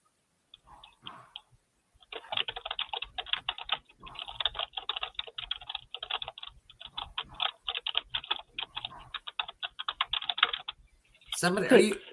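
Fast, steady typing on a computer keyboard clatters for about nine seconds in a quiet room, keys clicking in quick bursts with brief pauses, before a voice speaks at the end.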